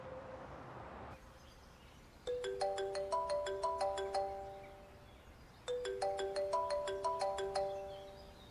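A telephone ringtone plays a bright, bell-like melody in two clear bursts separated by a short pause, loud and close against a quiet indoor background.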